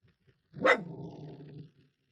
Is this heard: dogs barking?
yes